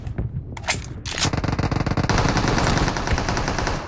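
Gunfire in the mobile game PUBG Mobile during a fight near an apartment block: a few separate shots at first, then sustained rapid automatic bursts, loud and near, with no speech.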